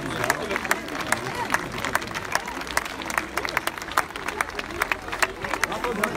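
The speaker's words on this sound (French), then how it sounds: "Je vous demande d'applaudir monsieur Dorian Coninck." A crowd at a public event in Poissy claps steadily, sharp individual hand claps standing out over a crowd murmur that continues throughout.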